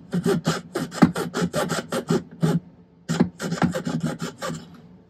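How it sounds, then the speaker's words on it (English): A jeweler's saw cuts into a silver hoop earring with a quick series of close, rasping back-and-forth strokes, pausing briefly midway before resuming the rhythmic sawing. "Then I want to rotate the saw a little bit, create kind of a wider spot there."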